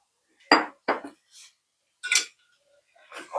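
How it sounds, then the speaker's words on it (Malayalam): Soaked flattened rice (aval) is tipped into a pan and mixed, giving a few sharp metallic clinks and scrapes of a utensil against the pan, spaced out with quiet gaps between them. "നമ്മുടെ മെയിൻ ഇൻഗ്രീഡിയൻ്റ് അവിലാണ് കുതിർത്ത് വെച്ചെടുത്ത അവിലാണ് അതും കൂടി ഇട്ട് കൊടുക്കുക"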